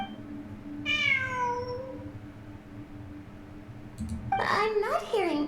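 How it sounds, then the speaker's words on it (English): A cat meows twice in Genshin Impact during Ruins Exploration at Fieldwise Center: first a clear, drawn-out falling meow, then after a pause a louder, more strained yowl, both over a low game ambience hum. "It really is a cat."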